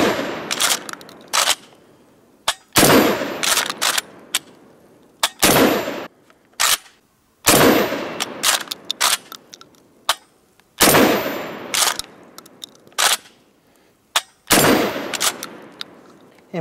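Kel-Tec KSG 12 gauge pump shotgun firing outdoors at a target, a string of loud, sharp blasts spaced a second or two apart, some in quick pairs, each followed by a short echoing tail.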